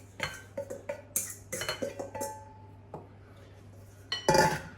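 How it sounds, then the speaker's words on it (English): Dry ingredients being stirred in a bowl, heard as a close run of clinks and scrapes from utensil against bowl, irregular taps over about four seconds with a louder clatter near the end. "Give that a bit of a stir"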